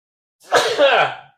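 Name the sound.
sneeze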